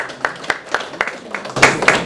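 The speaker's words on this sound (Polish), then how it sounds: "Proszę o brawa." Scattered hand claps from a small audience at a local political association convention in Skierniewice, Poland, sounding as a handful of sharp, fairly even claps that grow slightly denser toward the end, with faint room noise.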